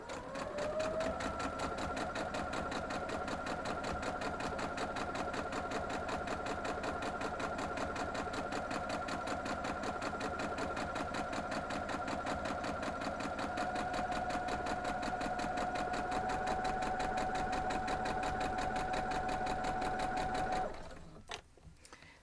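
A sewing machine runs a long straight seam across a quilt block, a steady close whirring drone holding for about twenty seconds before stopping abruptly, followed by brief handling noise.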